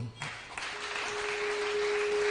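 An audience claps at a church family conference, a steady wash of applause that swells slightly and holds throughout, with no voices over it.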